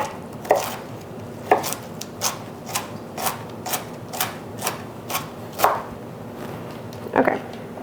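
A knife finely chops cabbage on a cutting board in a steady series of about a dozen crisp thuds, some heavier than others, close up and without speech.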